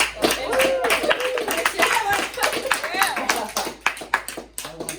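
A small audience at a casual podcast chat claps for a guest named Leo, scattered hand claps mixed with talking and laughter, thinning into a few isolated claps near the end.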